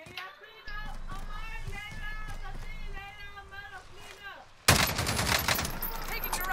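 Gunfire in Call of Duty: Modern Warfare, bursts of shots under excited talk by players and in-game voice callouts, with a louder sustained volley near the end.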